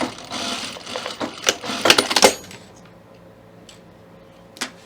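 Sewing machine stitching a zipper fly, a fast loud whir of needle strokes for about two seconds, then a quiet pause with a couple of faint clicks.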